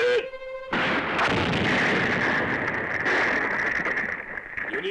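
Artillery guns open fire together in a Japanese anime battle scene, a sudden loud burst of gunfire and blasts that holds as a dense, continuous roar for several seconds before easing slightly.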